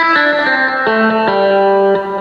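Electric guitar preset in a 60s shadow-lead style played on a Yamaha Genos keyboard, a clean twangy lead with a handful of sustained, bright notes picked in slow succession, loud and up close with no voice.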